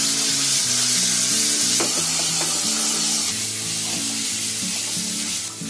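Ginger-garlic paste frying with onion-tomato paste in a pan, a loud dense hiss and sizzle throughout with a few light stirring knocks, over a steady background hum.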